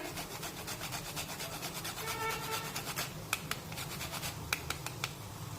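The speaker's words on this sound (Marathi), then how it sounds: "थोडीशी जायफळ किसून घालूया साधारण पाव चमचा घालूया" Nutmeg grated into a jaggery and coconut filling, quiet rhythmic rasping strokes close by, with a few sharp taps near the end.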